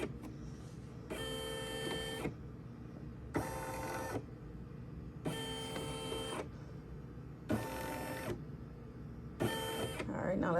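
A Brother SE400 embroidery machine runs in five separate bursts of whirring, stepping motor noise as it traces a design outline, with a steady hum between bursts and some talk in the background.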